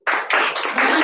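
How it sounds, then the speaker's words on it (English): An audience at a real estate listing panel breaks into applause, a short, loud, close burst of dense clapping with no talk over it. "Let's give a round of applause."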